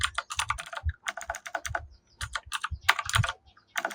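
Fingers type rapidly on a computer keyboard, bursts of crisp clicking keystrokes broken by short pauses, close and clear with no voices.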